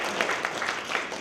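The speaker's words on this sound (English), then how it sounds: "give a round of applause" Brief applause from an audience at a youth engagement event, scattered claps overlapping in a short, moderately loud burst.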